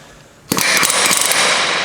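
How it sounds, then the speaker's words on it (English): After a quiet start, a pneumatic air hammer suddenly rattles hard against a Honda Civic front wheel bearing, loud and close, as a fast steady stream of impacts. "I might have to go air hammer route for a second."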